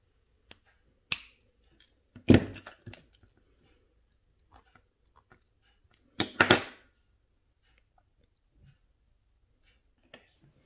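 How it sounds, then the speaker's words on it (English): Snips of a small wire cutter through wire for a handmade heart pendant, a few sharp close clicks scattered among quiet pauses. "we're gonna cut this wire"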